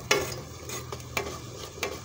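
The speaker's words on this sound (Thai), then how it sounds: "ปลาแดกลงจ้ะ เคี่ยวให้มันเข้ากันจ้ะให้มันหอม" Fermented fish (pla ra) simmers in a pot while a spoon stirs it, giving a few short scraping strokes over a quiet bubbling bed.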